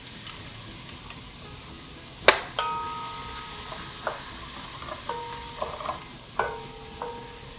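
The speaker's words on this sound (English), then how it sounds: "we'll mix that into the onions and garlic" Onions and garlic stirred in a pot while cooking for one-pot chicken parmesan pasta, a steady low sizzle broken by a sharp clank of a utensil and several light knocks and taps against the pot.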